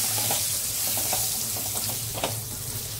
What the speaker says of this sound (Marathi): आता व्यवस्थित मिक्स करून घेऊया.